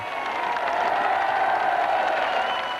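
A large football crowd of about 12,500 at Brunton Park, Carlisle, applauding and cheering at a Championship trophy presentation, a steady, dense roar of clapping and voices that holds at an even level throughout.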